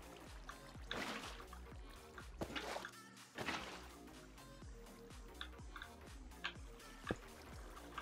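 Minecraft water pouring out in a steady trickling wash, overlaid with repeated clicky block-breaking taps and game sounds.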